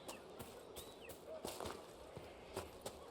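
Faint, scattered horse hoof clops in the video game Dragon Age: Inquisition sound in an irregular rhythm over quiet ambience, with occasional soft bird-like chirps in the background.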